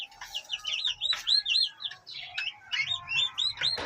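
Golden pheasant, green Java peafowl and turkey chicks chirping: a busy run of high, rapid peeping calls that overlap and repeat close by, with soft low rustling underneath and no talking.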